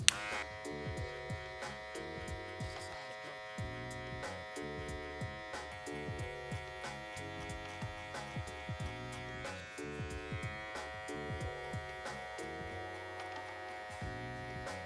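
Electric hair clippers fitted with a one guard, lever at three-quarter position, buzz steadily while cutting a taper fade. The close, constant hum carries repeated short strokes through the hair.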